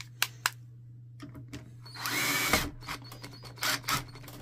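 Power drill driving screws into an HP LaserJet P1102w printer: a short whirring burst with a few clicks and taps around it, close and moderately loud over a steady low mains hum.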